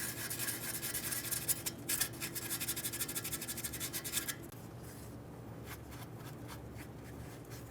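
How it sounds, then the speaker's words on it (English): Fine sandpaper lightly scuffing the housing of an upstream O2 oxygen sensor from a 2015-2020 Ford F-150 3.5L V6, a steady close dry rubbing rasp with brief strokes that thins to a softer, quieter hiss partway through. "we'll just use some fine sandpaper. We're going to give this a light scuffing"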